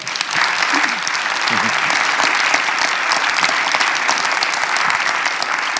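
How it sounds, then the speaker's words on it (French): An audience applauds a guest speaker at an evening talk on hypnosis and psychotherapy, with sustained, dense clapping throughout, close and full, and a few faint voices mixed in. "On l'applaudit bien fort."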